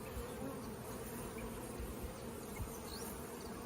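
Dense, steady buzzing of many honey bees swarming close by around hives, a continuous insect hum with no voices.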